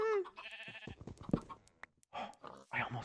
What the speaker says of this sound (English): Oh, you unruly cows.